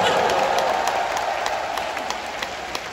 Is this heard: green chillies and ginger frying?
no